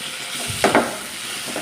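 Tomatoes hit a hot pan while chicken roast cooks, setting off a steady close sizzle with two brief louder bursts of crackling partway through, no voices.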